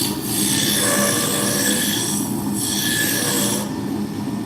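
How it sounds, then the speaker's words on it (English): A roughing gouge cuts a spinning wood blank on a lathe, producing a loud, close, continuous scraping hiss that swells and fades in long strokes over a steady motor hum, with no talk. "I can start out with my roughing gouge and start bringing the diameter down a little bit"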